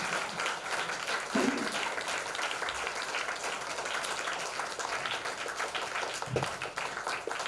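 An audience applauds at a Sai Baba temple gathering in Salem, a continuous, fairly distant wash of clapping with a few louder claps standing out.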